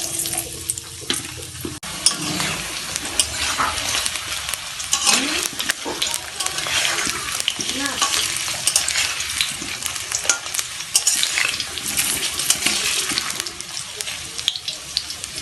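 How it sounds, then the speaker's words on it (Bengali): Cut potatoes fry in hot mustard oil in a wok, giving a steady, busy sizzle with stirring and scraping throughout. Water and sink sounds run underneath, and there is no talk. "আলুগুলো ভেজে নেওয়ার জন্য কড়াইতে দিয়ে দিচ্ছি সর্ষের তেল তেলটি গরম হয়ে গেছে দিয়ে দেবো কেটে নেওয়া আলুগুলোকে"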